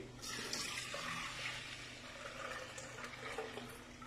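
Milk poured into a pot for a quick chilled dessert, a steady close liquid stream running throughout with no talk.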